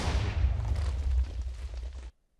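A heavy, rumbling explosion booms in Minecraft, a dense low roar that sustains for about two seconds before cutting off abruptly into silence.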